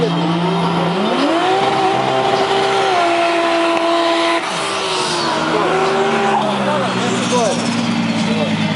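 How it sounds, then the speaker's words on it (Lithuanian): Engines of two BMW cars in the SS class at a drag racing championship round, revving and climbing in pitch through gear changes, with tire squeal mixed in and loud and close, while a commentator talks over them. "Taigi grįžta abudu BMW į priešstartinę zoną."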